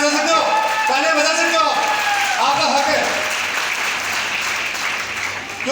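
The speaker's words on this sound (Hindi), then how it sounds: "तालियां बजा सकते हो, आपका हक है।" An audience at a business recognition event applauds, steady crowd clapping while a voice with pitched, melodic tones rises above it at first, then the clapping continues more evenly and fades slightly.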